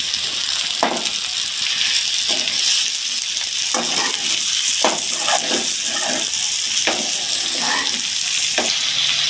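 Spiced cauliflower curry sizzles steadily in a pan while a spoon stirs it, scraping in repeated strokes about every second over constant frying noise.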